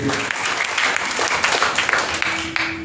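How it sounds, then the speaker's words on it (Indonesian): A church congregation applauds during a Sunday worship service, a full room of hands clapping in a dense, lively wash that holds steady throughout, close and loud with a faint tonal hum underneath. "Kita berikan tepuk tangan untuk Tuhan."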